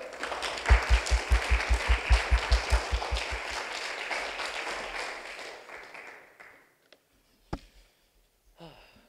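At a fashion conference talk in Seoul, a burst of rhythmic audience clapping swells into broad applause, then thins out and fades, leaving a few scattered taps and near silence.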